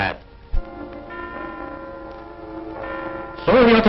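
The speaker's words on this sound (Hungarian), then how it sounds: "Szóljatok karácsonyi harangok" Christmas church bells ring on in the background, a steady wash of tolling overtones, while someone speaks loudly over them near the end.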